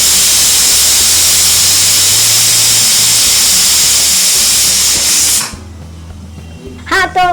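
A pressure cooker cooking dal lets out a loud, sustained steam whistle that hisses steadily for several seconds, then cuts off abruptly, followed by quieter steam sputters near the end.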